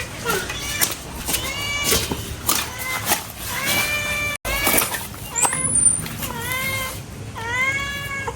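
A house cat meows over and over in a home kitchen where a pangas fish is being cleaned and cut, with close, loud, rising-and-falling cries that overlap with household noise.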